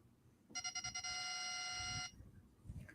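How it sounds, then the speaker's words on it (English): Steady electronic beeping of a homing missile lock-on in Grand Theft Auto Online: several quick pulsed beeps that merge into one sustained tone lasting about a second and a half, loud over faint background noise. "my homing missile is going off. If you hear that beeping sound"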